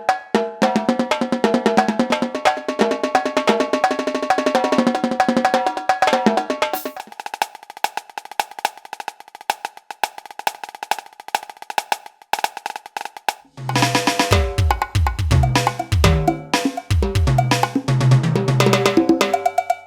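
Electronic percussion from a Roland SPD-30 Octapad plays busy rhythmic patterns, shifts to a sustained tonal stretch with scattered hits, then returns to punchy, layered beats.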